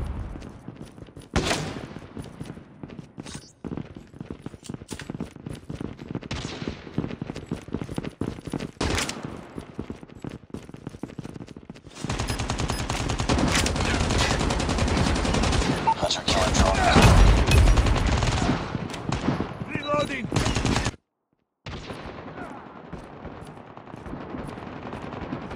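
Heavy gunfire in Call of Duty Mobile, with scattered single shots and bursts followed by a long, dense stretch of continuous rapid fire and blasts, loud and close throughout, broken by a brief silence near the end.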